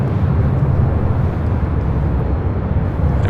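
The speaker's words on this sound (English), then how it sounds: "We should be seeing the Singapore 777 now rolling down to 5 right." Singapore Airlines Boeing 777 rolling down the runway at LAX for takeoff, a loud, broad, low jet roar heard from a distance, steady and rumbling without breaks.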